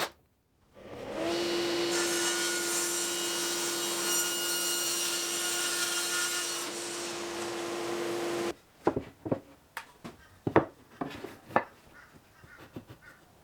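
A saw blade on a tapering sled cuts through reclaimed garbage timber held down with offcuts, a loud, steady whine for about seven seconds, followed by scattered knocks and clatters as the piece is handled.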